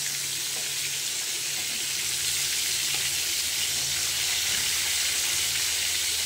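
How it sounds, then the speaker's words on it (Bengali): Marinated chicken fries in hot white oil, a dense continuous sizzle heard up close and steady for several seconds, with no voices. "বন্ধুরা এই যে তেল গরম করে চিকেনটাকে ভেজে নিচ্ছি।"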